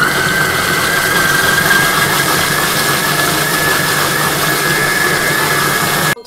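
A Monsieur Cuisine food processor mixes quiche dough at speed 5, giving a loud, steady motor whir with a high whine that runs continuously and stops abruptly at the end.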